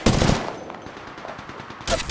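Gunfire from Apex Legends Mobile: a loud burst of rapid shots opens, a quieter stretch follows, then a second burst rings out near the end, no talking.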